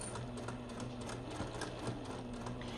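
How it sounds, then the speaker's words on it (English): A sewing machine runs a quarter-inch seam along zipper tape and vinyl mesh using a regular presser foot, giving a continuous, even, close mechanical whir with no pauses throughout. "I just use my regular foot, and we're gonna sew a 1/4 inch seam here"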